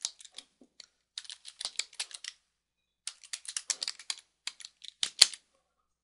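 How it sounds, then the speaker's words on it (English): A title being typed on a computer keyboard: faint, quick clusters of light keystroke clicks in two runs separated by a short pause, close and quiet. "then I'm going to go ahead and type my title"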